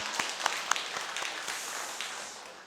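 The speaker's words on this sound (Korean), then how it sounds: "우리 박수 한번 할까요?" A church congregation at a Wednesday worship service claps together in a soft, scattered patter, with a few sharper individual claps standing out early on, fairly quiet and roomy.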